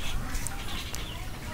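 Broiler chickens on a farm give soft, scattered clucks and brief calls over a steady, noisy flock background. No one speaks.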